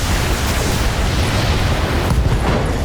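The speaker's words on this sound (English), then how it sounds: "Ammo explosions." Ammo explosion in the mech combat video game BattleTech, a dense, loud, sustained rumbling blast that fills the whole stretch without pause.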